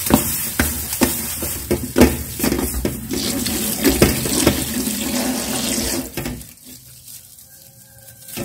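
Salted pork liver is rinsed under a running kitchen tap, a loud, continuous gush of water with some handling splashes that cuts off and drops to near quiet in the last couple of seconds.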